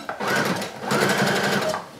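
A sewing machine runs steadily while stitching through the edge of a convertible collar seam at 3 stitch length with a half-inch allowance, a close, continuous motor whir with a brief pause in the middle.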